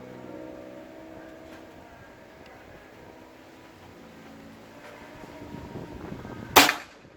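A single sharp PCP air rifle shot cracks near the end, loud and close, after several seconds of quiet, windy outdoor ambience.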